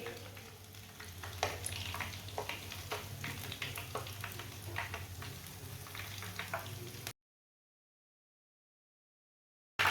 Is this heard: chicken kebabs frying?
yes